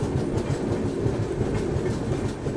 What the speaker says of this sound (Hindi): पैरेलल हमारे साथ एक और ट्रेन अराइव कर रही है आगरा कैंट रेलवे स्टेशन पर